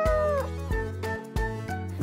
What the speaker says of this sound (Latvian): oranžs kaķis